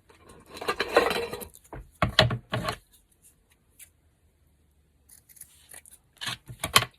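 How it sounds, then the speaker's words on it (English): Scissors cut paper scraps in a crafting session, with several crisp, close snips and rustling paper, separated by quiet pauses. "Get my scissors."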